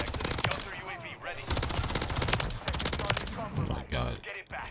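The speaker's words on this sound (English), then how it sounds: "This is one of the fastest killing SMGs." Rapid automatic fire from a Rival 9 SMG in Call of Duty MW3, dense bursts of sharp shots in quick rhythm with short pauses, with someone talking over the gunfire throughout.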